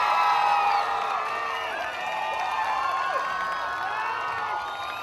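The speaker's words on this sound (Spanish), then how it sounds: "vamos a darle un fuerte aplauso a Mabel Solano." A crowd at a fruit fair queen coronation in Orotina cheers, whistles and claps for a finalist, a steady wash of whoops, shrill calls and applause with no clear speech.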